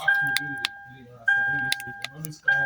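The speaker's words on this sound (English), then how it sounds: "when I press the unlock button" Power door locks on a Lexus ES actuating as the unlock button is pressed, giving a few sharp clicks and thunks spaced about a second apart against a steady electronic tone, with a voice murmuring underneath.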